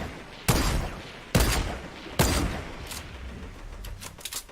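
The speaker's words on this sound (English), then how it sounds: "It's got like a pretty fast fire rate. It's on the turret though." Rapid turret gunfire in a video game, with three loud, sharp bursts at a steady spacing, followed by fainter shots and rattling near the end.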